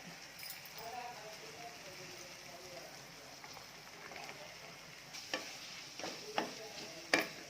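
Carrot, potato and beans fry in a pan for rava kichadi, giving a low steady sizzle with a few sharp spoon-against-pan clanks toward the end, up close.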